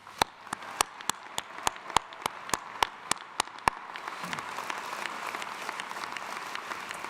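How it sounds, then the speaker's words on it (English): A commencement audience in a large arena applauds in a broad, sustained wash of clapping, with a run of evenly spaced, sharp close claps over the first few seconds before the crowd sound continues on its own. "I want you to give yourselves a warm round of applause."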